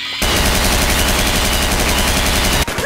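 On a Garry's Mod horror map, loud sustained automatic gunfire pours out as one unbroken, dense rattle of rapid shots, with a brief dip in the last moment.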